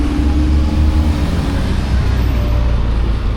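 Car traffic on a road in Jamaica makes a continuous loud, low engine rumble and roar as vehicles pass close by, steady throughout without a break.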